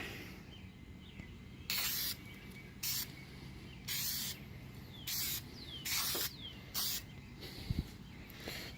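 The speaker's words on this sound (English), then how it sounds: "or light mists, pass it over. You don't want to cover everything in one shot. Do a couple of different passes" A spray can releases paint in light mist passes: about six short, sharp hissing bursts separated by quiet pauses, close and fairly loud, with no voices.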